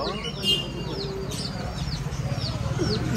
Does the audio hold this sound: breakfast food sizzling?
no